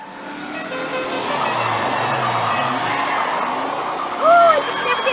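The General Lee races in the Dukes of Hazzard II video game, a sustained roar of a car engine close up and under a continuous wash of noise, with a brief tire-squeal-like sweep near the end.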